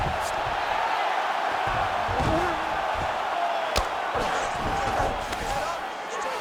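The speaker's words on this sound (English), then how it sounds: "So the crowd absolutely loving it as these fighters work their way back to the feet." Arena crowd in EA Sports UFC 5 murmurs and cheers in a steady, loud roar during a fight between Michael Chiesa and Kevin Holland, with a sharp thump partway through and a commentator talking over it.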